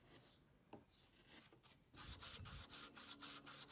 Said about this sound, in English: I left the brass sheet a little above the surface, and I thought it's easy to sand it to flat